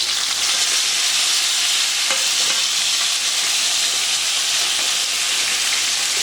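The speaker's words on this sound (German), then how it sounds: "So, den Fisch werde ich jetzt umdrehen." A freshly flipped fish fries in a pan, giving a loud, dense, unbroken sizzling hiss that stays even from start to finish, close up and with no voices.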